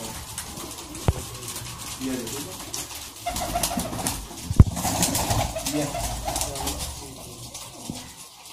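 Soft cooing from a high-flyer pigeon murmurs close by under someone speaking, with a couple of sharp knocks and some wing rustling.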